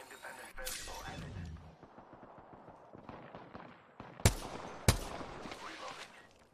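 Gunfire in the Apex Legends video game, scattered shots with two sharp loud cracks near the end, mixed with game noise and a voice talking.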